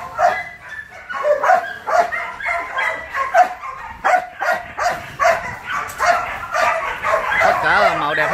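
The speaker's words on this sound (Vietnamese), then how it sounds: "Đây là đàn chó đực phối của mình." Male breeding dogs at a Vietnamese kennel that keeps Malinois and Rottweilers bark steadily and in overlapping bursts, loud and close. Someone talks over the din.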